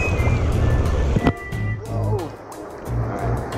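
Ocean surf washes in at a beach while someone wades in the water, a loud, near, rumbling wash of waves with splashing and sloshing swells rising and falling, heard without speech.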